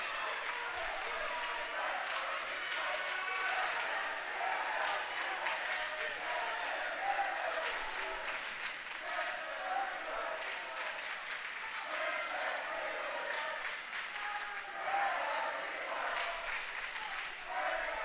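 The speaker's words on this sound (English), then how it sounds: "Both teams clapping in unison." Spectators at a high school boys' swim meet clap together in steady unison, a loud and continuous wash of applause filling a large indoor pool hall while an announcer speaks over it.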